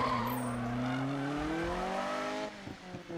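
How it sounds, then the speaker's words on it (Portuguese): Tyre screech of a car skidding in the racing game Need for Speed, a sustained rising squeal over engine noise that cuts off near the end, no speech. "esse carro derrapa demais"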